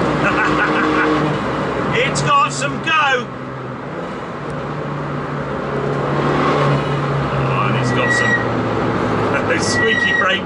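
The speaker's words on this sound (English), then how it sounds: "Squeaky brakes are great." A road-legal R56 Mini Challenge on the road with a constant engine and road roar, and short high-pitched brake squeals coming in bursts early and again near the end.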